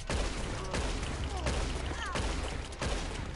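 Gunfire during a nighttime Red Dead Online match in Valentine: several evenly spaced shots ring out under a player's talking.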